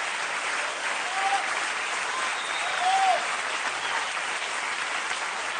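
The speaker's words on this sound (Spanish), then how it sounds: "La tribu aplaudiendo" A steady wash of dense audience applause from a crowd at a music talk, sustained and even at moderate loudness throughout, with a couple of faint whistles rising briefly above it.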